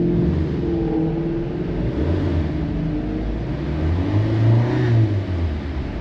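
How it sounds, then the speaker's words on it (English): A car engine revs up and settles while being checked with a handheld scan tool for a suspected chain tensioner or phaser fault, a steady, close, loud mid-range rumble with a rising swell near the end and no talking. "See if we rev the gas."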